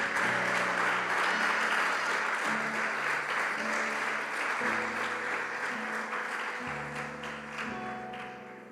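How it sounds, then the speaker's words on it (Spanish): A church congregation gives a long, loud round of applause to God, a dense crowd of clapping hands over sustained organ or keyboard chords, fading slightly toward the end. "Dale un fuerte aplauso a Dios."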